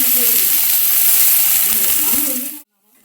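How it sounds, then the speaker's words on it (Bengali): Long thick eggplant slices fry in hot oil with a steady, loud hissing sizzle that holds for about two and a half seconds, then cuts off abruptly into silence. "বেগুনও এখানে আমি লম্বা লম্বা করে মোটা মোটা করে কেটে নিয়েছি, এগুলোও হালকা করে একটু ফ্রাই করে নেব"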